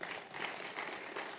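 A seminar audience claps in a brief, steady burst of applause at moderate distance, filling the short moment without any talk.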